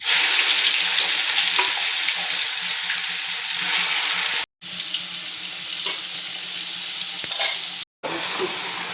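Ground spice paste going into hot oil for Bengali taro fry, giving a loud continuous sizzle with stirring, broken by two brief silent gaps.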